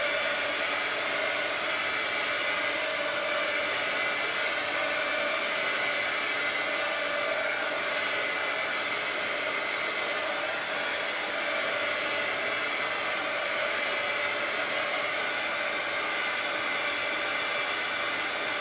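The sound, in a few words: hair dryer drying art journal page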